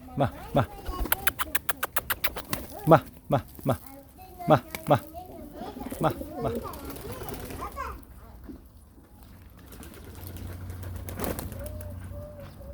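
Domestic pigeons at a home loft make soft, repeated warbling coos, with quick bursts of flapping wings early on and people, including children, talking nearby.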